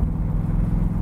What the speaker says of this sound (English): It's got an awesome sound and exhaust system on it.